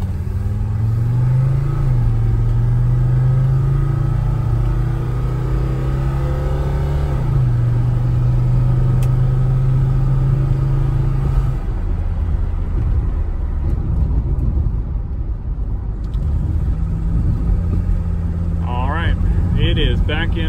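Mercedes 300D diesel with rebuilt injectors and new nozzles, heard from inside while driving: a steady low engine drone that rises and shifts through gears, with talk over the top and a brief chime near the end.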